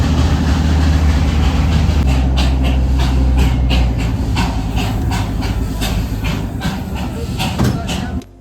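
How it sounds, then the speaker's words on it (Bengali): The Darjeeling toy train rumbles close by as it arrives at Batasia Loop, with hissing steam and mechanical clatter, a steady loud rolling noise that eases slightly toward the end. "টয় ট্রেনটা এসে পৌঁছেছে বাতাসিয়া লুপে"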